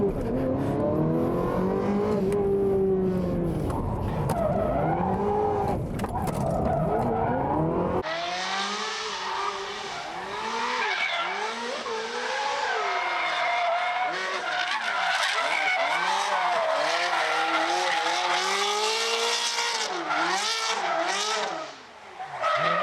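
A Ferrari 360 Modena drifts with loud, continuous tire squeal over a screaming, revving engine that rises and falls through repeated slides. The car is close and the noise runs unbroken, with only a brief dip near the end.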